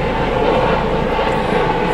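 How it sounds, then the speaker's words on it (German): A helicopter passes overhead, a steady loud engine and rotor drone filling the whole stretch with no break and no voices. "gerade ein Hubschrauber."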